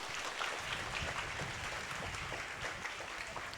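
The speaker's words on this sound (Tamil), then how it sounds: "ஜோர கைத்தட்டு" A school audience at a Pongal festival claps together in a continuous, dense patter of many hands, heard faint and distant throughout.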